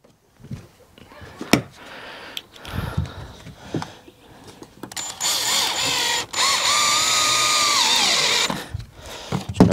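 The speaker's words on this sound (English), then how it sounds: "Just going to run 4 screws through each run." Power drill driving screws into a wooden shed floor, with scattered knocks and handling at first, then a loud sustained whining drive with a brief break in the middle, close up.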